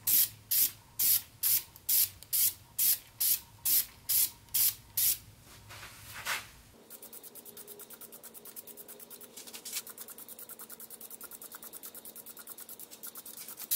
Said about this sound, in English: But maybe some lacquer will make it look a little better.